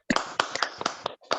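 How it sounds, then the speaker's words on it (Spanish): Participants in an online event give a short, sparse round of applause, a handful of separate hand claps picked up over a call, quiet and a little uneven. "un aplauso para, si nos dejamos de silenciar y aplaudimos esta hermosa iniciativa"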